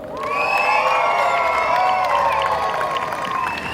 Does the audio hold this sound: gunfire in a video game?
no